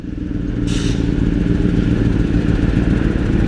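A motorcycle rolls across a patch of oil on the road with the clutch held in, its engine a steady, close drone with a brief hiss early on.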